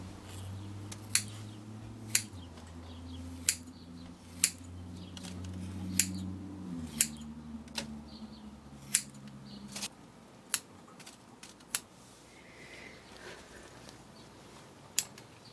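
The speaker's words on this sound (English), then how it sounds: "And cut this side." Scissors snip through the person's own hair while cutting a pigtail haircut, giving crisp, evenly spaced cuts about one per second over a low hum, close and clear.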